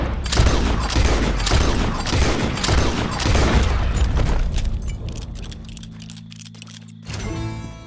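Gunfire and booming blasts in the Western game Red Dead Redemption 2 on PS5, a dense loud volley of shots over the first four seconds that thins into scattered sounds and a steady low hum.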